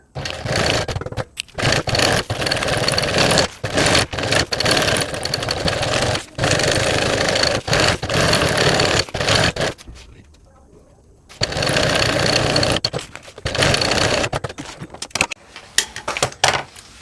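A sewing machine stitches the fabric pocket of a child's school bag in several loud, close bursts of rapid rattling, separated by short pauses and one longer quiet gap.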